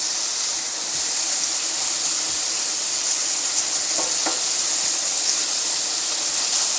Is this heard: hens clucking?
no